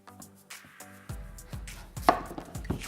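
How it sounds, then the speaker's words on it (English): A sharp knife chops through a squash on a board, topping and tailing it, with several firm, evenly spaced thunks landing close and clear, each giving a short woody knock. "Time now to cut up the squash."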